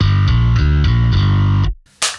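An electric bass in passive mode plays a few distorted, sustained notes in a steady rhythm, then cuts off abruptly before a short burst of noise.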